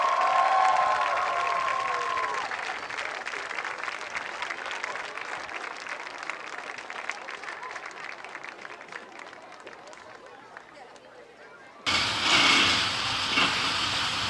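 A stadium crowd at a high school football game applauds the 2016 homecoming king and queen with sustained, fairly distant clapping and cheering that carries on for several seconds before fading.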